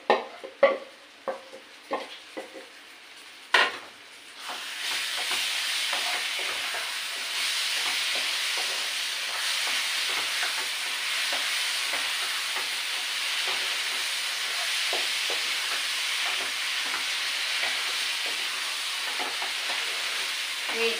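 Pointed gourd mash fries in a pan while a utensil scrapes and stirs it, a few sharp knocks first, then a steady, close hiss of sizzling that carries on alone under intermittent scraping.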